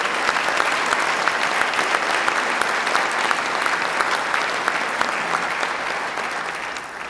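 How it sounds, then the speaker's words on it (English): A crowd at a government announcement applauds Dr. Calleros, giving loud, sustained clapping from many hands that stays dense and even and fades slightly near the end. "Let's give him another round of applause."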